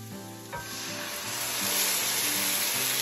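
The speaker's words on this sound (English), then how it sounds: "So I've added our jar of tomatoes, and I'm going to go ahead and let this cook down a little bit" Jarred tomatoes sizzle and simmer down in a hot pan for a stuffed bell pepper dish, a steady close frying hiss with soft bubbling, running alone without voices.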